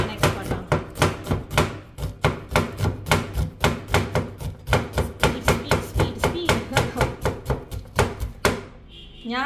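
A knife chops onions quickly on a board in a home kitchen, dozens of sharp, steady strikes in a fast even rhythm, close and loud with no talk.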